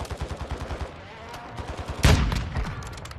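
A sniper rifle shot in the video game Modern Warfare 2 cracks out loud and close with a sharp burst, after a stretch of rapid rhythmic gunfire and low game noise.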